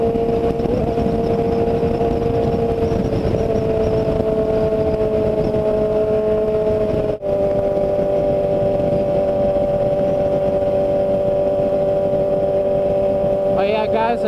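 A motorcycle cruises on a group ride commute, its engine droning in a steady, loud tone heard from the rider's position, with constant wind rush and a brief rise in pitch near the end.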